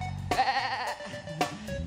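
Sheep bleating as a sound effect on a Turkish TV talk show, two wavering, nasal bleats close and loud, the first long and the second shorter, with no talk over them.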